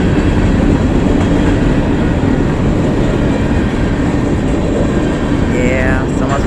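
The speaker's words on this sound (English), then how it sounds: "Well, that's the end of that train." A train rolls past on the track, a loud, steady broadband roar with rumbling wheel noise that holds for the whole stretch, and a faint squeal rises near the end.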